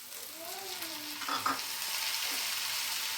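Cauliflower, potatoes and tomatoes fry in oil in a pan for a home-style curry, giving a steady moderate sizzle with stirring, and a brief faint tonal sound early on.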